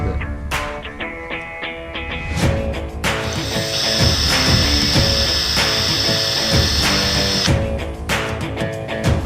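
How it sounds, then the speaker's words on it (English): A 4mm bit drills into a pen blank, its motor whine steady and loud for several seconds between short start-stop bursts, close up with no talk. "Starting off with the 4mm drill bit."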